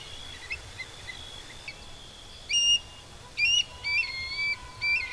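Eurasian stone-curlews call during courtship in open farmland: thin, whistled cries, faint at first, then a run of louder, repeated call phrases over a quiet background.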